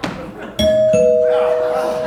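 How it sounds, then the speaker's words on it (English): A doorbell rings inside a manor house, two clear sustained chimes following a thud, ringing out loudly and lingering to the end. "I think I just heard the doorbell."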